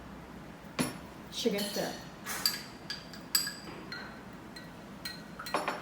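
Metal spoon clinking against a glass while stirring iced coffee with milk and syrup, a few sharp scattered clinks, close and fairly quiet, with someone talking.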